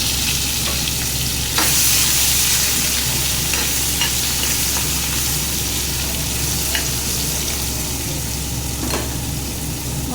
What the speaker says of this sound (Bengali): এটাকে একটু ভেজে নেব, আলু আর সোয়াবিনকে।